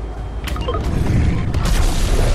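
A mythic weapon fires in the Fortnite video game, a loud booming blast with mechanical clanks and a second burst shortly after, over dense game noise.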